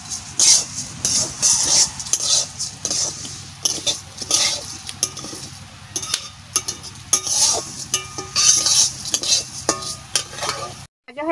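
Food sizzles and fries in a pan for Bengali dal cooking, with steady crackling and intermittent stirring and scraping of utensils against the pan, close and fairly loud throughout, no talking.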